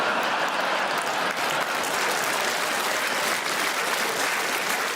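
A comedy audience at a stand-up show claps in a full, sustained burst, a dense, uniform patter of many hands that holds steady throughout at moderate level.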